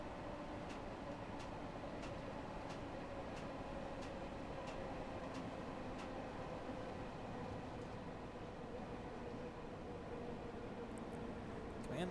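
A London Underground Bakerloo Line train in Train Sim World 2 brakes into a platform, with a faint steady rumble and hiss of the running train and periodic soft clicks across the stretch.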